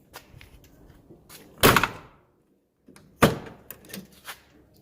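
A car door on a 1985 Oldsmobile Cutlass with newly fitted chrome handles swings open with a solid thunk, then after a short pause shuts again with a firm, close-up slam.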